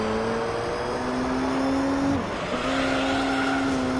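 Race car engine in Gran Turismo 3 holding a steady high drone at speed on a lap, pitch dipping briefly around a gear change before climbing back, constant and close throughout.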